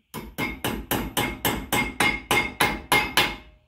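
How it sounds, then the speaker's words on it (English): A hammer taps a brake pad pin eleven times in a quick, steady rhythm, each metal strike sharp and close with a brief ringing decay. "we're going to take a hammer, tap it in."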